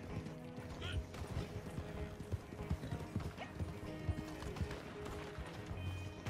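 Hooves clip-clop rhythmically as a horse gallops by in Red Dead Online, steady thuds amid a busy game soundscape with faint background noise.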